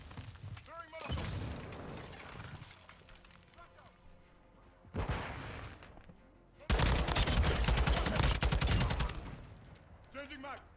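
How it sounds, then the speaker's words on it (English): Video game firefight with a Molotov cocktail thrown and shattering, amid loud bursts of automatic gunfire, booms and breaking glass in several heavy blasts, with voices calling out between them. "Throwing Molotov!"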